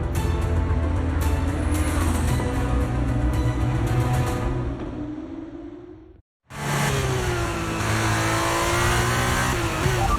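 F1 race car on brand-new tyres in the F1 23 video game, engine droning loudly with rising harmonic whine, a brief cut to near silence midway, then the engine returns at full pitch, no talking.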